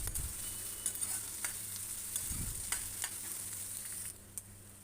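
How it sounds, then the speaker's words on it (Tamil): Onions and chillies sauté with steady sizzling and frying in a pan, with occasional stirring scrapes and clicks, continuous and fairly close, no talking. "இதெல்லாம் நல்லா கொஞ்சம் வதக்கிக்கலாம்."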